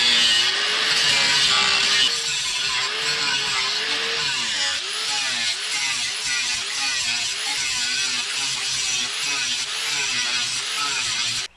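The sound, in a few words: grinder cutting seam of Mercury Sable rocker panel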